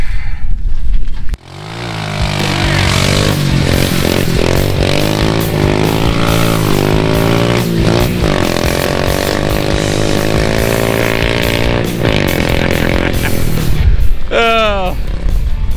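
A 4-wheeler engine powering a racing lawn mower runs steadily and loud for the whole stretch, with a rough droning tone that rises and falls as it revs, cutting off briefly near the start.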